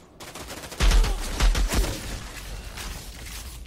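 Gunfire in Outriders comes as a rapid burst of loud, closely spaced shots with heavy low thumps, then fades into scattered fainter reports and a background rumble.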